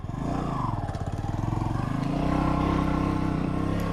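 A Bajaj Boxer 150 motorcycle climbs a mountain road in third gear, its single-cylinder engine chugging steadily and loudly up close with a rising, labouring drone.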